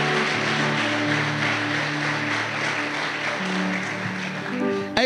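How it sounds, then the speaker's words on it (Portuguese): A church congregation claps in a steady, sustained round of applause that runs the whole time, mixed with held keyboard or organ chords and ending in a brief final flourish. "Agora você pode aplaudir"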